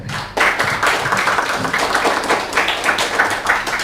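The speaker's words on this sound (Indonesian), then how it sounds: "Tepuk tangan buat Davianda ya." A classroom of students applauding a classmate, brisk dense clapping from many hands starting abruptly and continuing evenly at close range for a few seconds.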